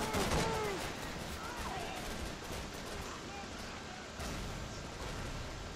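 Gunfire in Call of Duty 3, rapid bursts of rifle and machine-gun fire through the whole stretch with distant booms of explosions, steady battle noise and voices in the mix.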